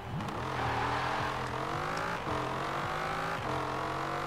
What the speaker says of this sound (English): Oh, Ben, I can hear your car, I think. So is it back in? Is it an M4 GTS?